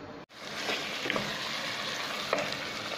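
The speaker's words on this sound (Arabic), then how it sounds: "ندير طراف تاع الدجاج، نخلي هكا يتقلى شوية،" Chicken pieces frying in a pan with oil, a dense steady sizzle heard up close, broken by a brief drop at the start and a few faint stirring taps.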